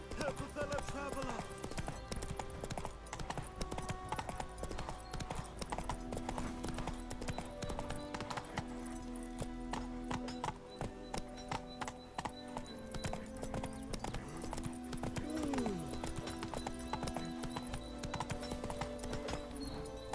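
In The Witcher 3: Wild Hunt, the hooves of the horse Roach clip-clop in a steady rhythm throughout, mixed with game music, other sounds and voices talking.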